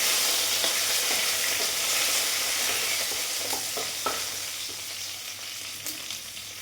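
Green chillies and curry leaves sautéing in hot oil in a pan for an egg and pepper curry, a loud, close, constant sizzle with scattered light scraping stirs that slowly eases.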